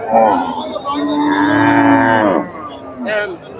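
A cow at a busy cattle market lets out a long, loud, drawn-out moo close by, followed by a shorter second call, with faint crowd murmur behind.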